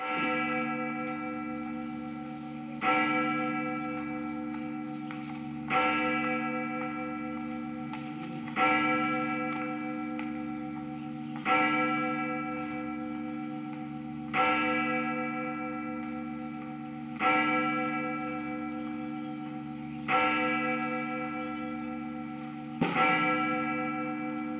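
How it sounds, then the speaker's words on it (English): Eight evenly spaced bell strikes from a video game clock, each a bright metallic peal ringing out and decaying before the next, about three seconds apart over a faint steady hum. "Twelve bell peals sound through the area, signaling the time."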